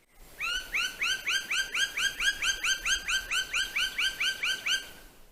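A woodpecker in a forest gives a rapid series of about twenty sharp, loud, evenly spaced chirping calls, close and clear against quiet surroundings.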